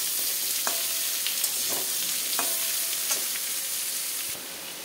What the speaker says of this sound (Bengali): কেটে রাখা পটলটা দিয়ে দেবো, পটলটা দিয়ে ভাজবো।